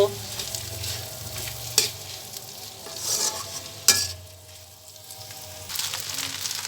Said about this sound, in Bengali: এখন এই ভেজে রাখা চিকেন এবং ডিমগুলোকে অ্যাড করে দিচ্ছি। দিয়ে ভালো করে নেড়ে চেড়ে